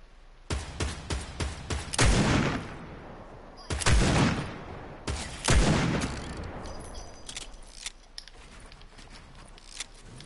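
Automatic weapon fire in the video game Fortnite, with several loud bursts of rapid shots and heavy booming impacts spread across the clip, fading to lighter scattered pops near the end.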